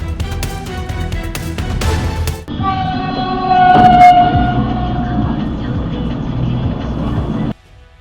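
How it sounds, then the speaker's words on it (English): An oncoming train bears down on a car at a railway crossing, its horn blaring steadily over heavy rumbling, with a sharp hit partway through before the noise cuts off. "The car refused to stop at the railway red light and raced forward, only to be struck by an oncoming train."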